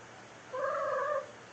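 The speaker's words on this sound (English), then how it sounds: "Sorry, that was my cat. She was very loud." A cat lets out one loud, drawn-out meow lasting about two-thirds of a second, close by, with quiet room tone before and after.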